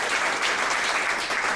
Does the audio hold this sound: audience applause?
yes